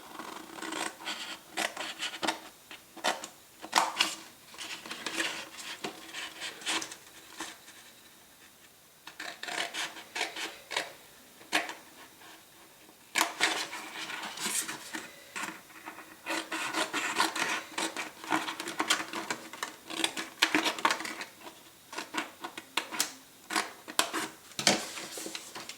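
Paper-craft corners for a festive candle holder being cut at sped-up speed, heard as dense, continuous rasping and scraping bursts with brief pauses, close and moderately loud throughout.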